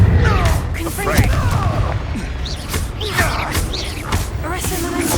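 Confringo blasting spell from Hogwarts Legacy going off amid spell combat, a dense rumbling blast with crackling bursts and whooshing sweeps throughout, a voice speaking over it.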